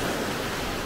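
Sea waves wash onto a beach in Antalya, a steady loud broadband rush of surf with some wind noise, continuous and close, with no talking.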